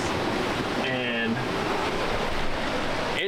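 Strong wind of 17 to 25 mph gusts and rushing ocean waves around a sailboat surfing fast at sea, a loud steady wash of spray and water that fills the whole stretch, with a brief voice in the middle.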